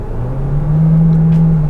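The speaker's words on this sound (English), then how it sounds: "You can hear it revs up and it gets you moving." A 2024 Hyundai Tucson Plug-in Hybrid engine revs steadily in a low gear, a loud, close, rising drone with no voices.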